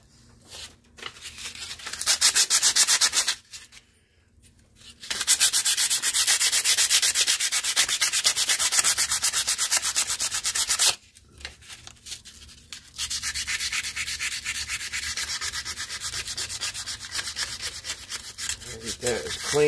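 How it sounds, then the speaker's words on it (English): Sandpaper scrubbing carbon off a part of an old lawnmower engine, loud rapid rasping strokes in long bursts broken by two short pauses, close up and without speech. "Get our sandpaper back."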